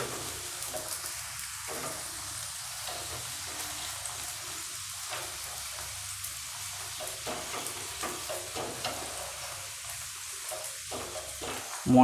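A lachha-style paratha ring frying in a pan gives a steady, close sizzle with crackling bursts that run unbroken for about twelve seconds, with no talk.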